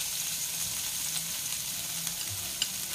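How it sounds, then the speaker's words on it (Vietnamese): Garlic and lemongrass frying in a hot pan, a loud continuous sizzle and crackle with a few stirring knocks, no voices over it. "Rồi chảo nóng rồi đó, giờ mình thử tỏi xả nha cả nhà"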